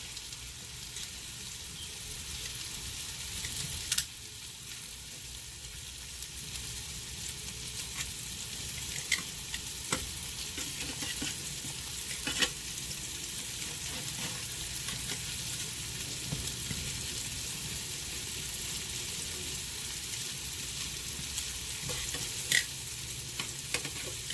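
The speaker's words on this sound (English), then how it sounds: "until all the oxtails are browned" Oxtails brown in a hot pan for a Jamaican-style dish, giving a steady, close sizzle with occasional sharp pops and stirring clicks throughout.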